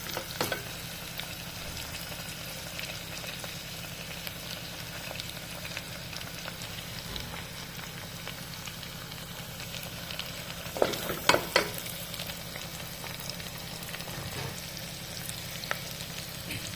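Chopped tomatoes fry alongside lightly browned onions in a pan for a Bengali mutton curry, giving a continuous crackling sizzle with a short burst of stirring scrapes near the end.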